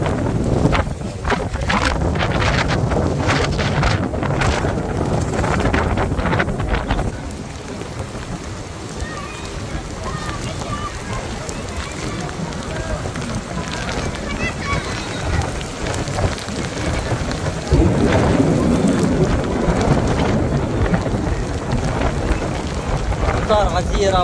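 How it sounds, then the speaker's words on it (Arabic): Heavy rain pours with strong gusting wind buffeting the microphone at Masjid al-Haram in Makkah, a dense, loud, continuous roar that swells and eases over time. "أمطار غزيرة وهواء شديد ما شاء الله."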